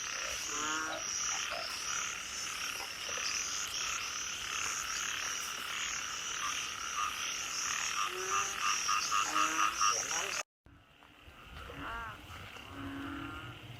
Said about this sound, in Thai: นี่ครับอึ่งยางนะครับ